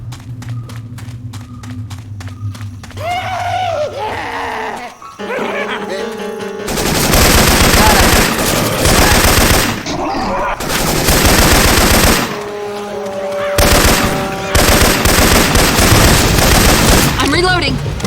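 Rapid rifle gunfire in Left 4 Dead 2, fitted with Syphon Filter weapon sound effects, loud sustained bursts of automatic shots with short breaks, after quieter game sounds at the start.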